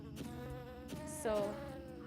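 Bees in a video game give off a steady insect buzz that holds for about two seconds at moderate level, with a brief louder swell near the end and no speech over it.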